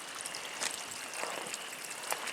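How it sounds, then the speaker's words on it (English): Runoff water pours off a whole hillside during April rain showers, a steady wash of trickling and streaming sound with a few brief splashy surges, heard alone. "Did you see water just come pouring off this whole hillside here?"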